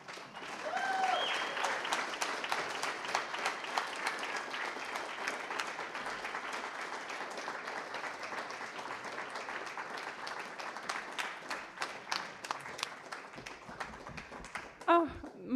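Long, steady applause from an audience after a literary reading, with sharp individual claps sustained for about fifteen seconds, faint voices briefly audible beneath it.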